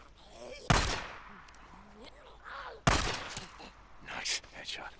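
Gunshots ring out in the video game Days Gone, two loud sharp cracks about two seconds apart over a noisy game background, with a spoken voice and further rumbling activity afterward.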